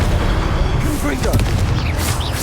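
A Confringo spell blast in Harry Potter Legacy erupts amid continuous booming game combat, dense and loud throughout, with a voice calling out spells over the noise.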